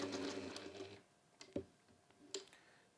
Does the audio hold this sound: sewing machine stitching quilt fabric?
yes